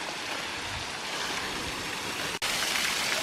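A waterfall in Bankhead National Forest, Alabama, roars in a steady, broad rushing wash of falling water, close and continuous with a brief cut partway, and no voices.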